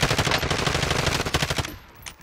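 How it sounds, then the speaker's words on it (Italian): Rapid, steady bursts of gunfire from players shooting in a multiplayer video game, crackling fast and fairly close for about a second and a half before trailing off into a quieter shot or two. "Stanno sparando a qualcuno qui davanti."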